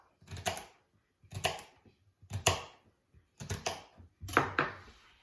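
A knife chops celery into pieces on a board in five quick bursts of several sharp strokes each, with short pauses between them, close by and with no talk.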